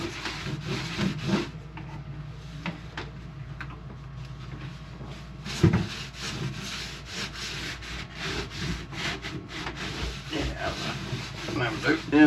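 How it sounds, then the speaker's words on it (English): A rag rubs acetone over a roughed-up fiberglass galley surface on an old sailboat, giving repeated scrubbing strokes with small knocks and bumps at close range, quiet and steady. "just give it a little clean with some acetone"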